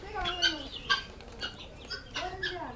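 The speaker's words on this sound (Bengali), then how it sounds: "এগুলো হচ্ছে অরিজিনাল মেড ইন জাপানি কোয়েল পাখি" Japanese quail on a farm call in a series of short, reedy chirps that repeat roughly every half second, close by over a faint background.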